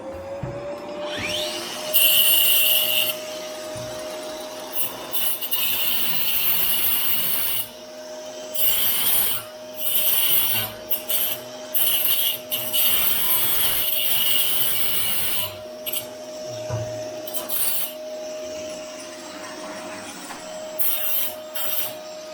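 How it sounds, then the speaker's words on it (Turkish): A combination woodworking machine runs in a workshop being set up: a loud, steady mechanical drone with a sustained hum and fluctuating grinding texture that continues throughout, with no voices. "Abi dur çalıştıralım makineyi. Takım makinesi abi."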